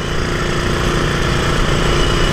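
Suzuki RG Sprinter 91 motorcycle engine running steadily during a test ride, a loud continuous buzzing drone with rapid pulsing, close and unbroken with no talk.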